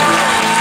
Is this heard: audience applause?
yes